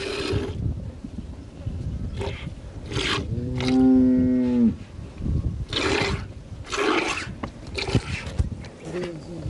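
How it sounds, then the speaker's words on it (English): A cow lows at a herders' camp where cows are milked, with one drawn-out moo in the middle of the stretch. Nearby people talk, and there is rustling and splashing around them. "This is the sound of a milking cow."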